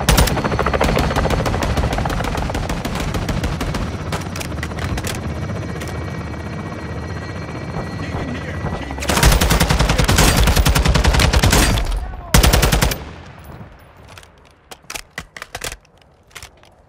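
Rapid machine-gun fire and a helicopter's thudding rotor in Call of Duty: Modern Warfare 2 (2022), loud sustained bursts followed by sparse scattered shots as it tails off.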